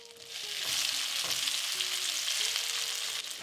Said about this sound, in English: Into this pan, add vegetable oil, our reserved caramelized onions to start making the meatball sauce.